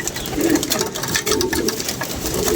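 A pigeon coos close by in soft, low, repeated throaty calls over a steady background hum.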